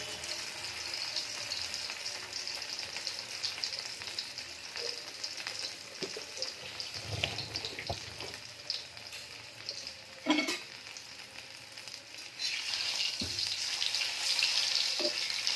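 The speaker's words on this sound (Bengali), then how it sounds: "এইভাবেই আলুগুলো সব আমি ভেজে নেব" Potatoes fry in hot oil in a kadai with a steady hiss and crackle, with occasional clinks and stirring noises while the sizzle keeps going.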